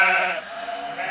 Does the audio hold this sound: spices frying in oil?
no